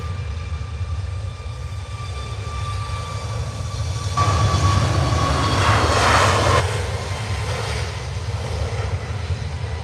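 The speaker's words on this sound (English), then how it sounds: "Ryanair taxis on the runway." A Ryanair airliner taxis at Manchester Airport, its steady engine roar and whine holding throughout and swelling louder midway as it passes nearer, then easing back.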